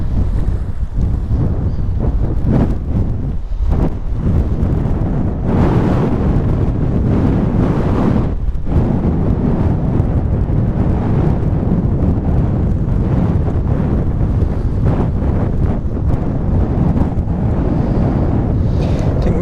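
Strong wind gusts buffet the microphone on the coast near Sunderland during light rock fishing, a loud continuous roar with rising and falling surges and no talk.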